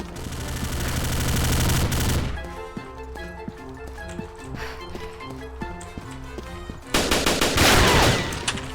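Gunfire from the shooter game Combat Arms Reloaded, with dense loud bursts at the start and near the end and a stretch of quieter game music and clicks between them.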